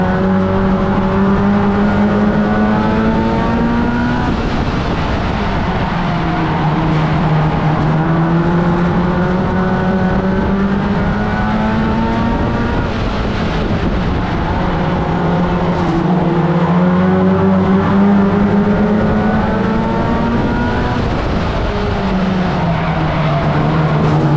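Race cars lap a circuit close by. Their engines howl loudly and continuously, rising and falling in pitch as they accelerate, shift and brake, with several cars layered together.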